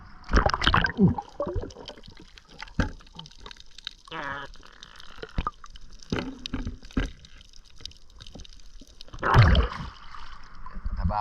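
Water moves and gurgles in a river current, with splashing and pouring bursts close by alongside intermittent knocks and handling sounds.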